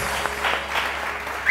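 Brief audience applause for actor Hamad Farooqui on a morning TV show, a short steady patter of clapping from a studio crowd.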